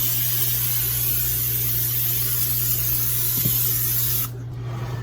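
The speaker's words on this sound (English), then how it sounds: "I'm going to spray it with a little cooking spray." A steady aerosol hiss of cooking spray coating a 9x13 pan runs for about four seconds, close and loud, then cuts off abruptly, leaving quiet room tone.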